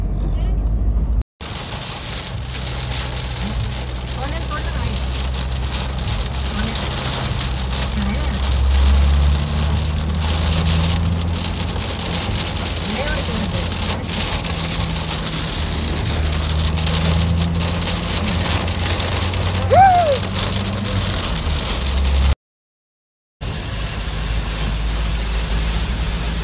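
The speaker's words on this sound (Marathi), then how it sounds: "पाऊस बघताय का पाऊस" Steady rain hisses across the whole recording, a dense broadband wash with a low rumble underneath, briefly cutting out near the end.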